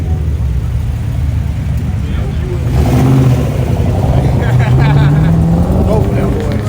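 Car engines rev at a street gathering, a loud, close, low rumbling exhaust that swells in the middle and stays heavy throughout, with people talking over it.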